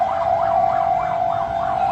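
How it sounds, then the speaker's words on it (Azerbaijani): Police car sirens wail in a fast, repeating rise-and-fall pattern, loud and close, sounding continuously with no voices. "Polis maşınları hara gedirlər belə?"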